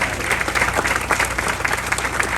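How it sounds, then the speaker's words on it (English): Audience applause at an outdoor track completion ceremony for the Foothill Gold Line, a steady dense wash of many hands clapping for a couple of seconds. "Let's give him a big round of applause"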